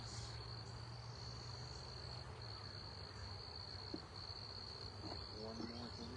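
Honey bees hum and buzz around open hives during a spring hive check, a steady close drone with a constant high whine running throughout, no talking.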